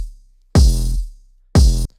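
A trap drop sounds twice in quick bursts, a deep kick thumping beneath a bright high-passed open hi-hat and a melody, loud and alone, each burst cutting off sharply before silence.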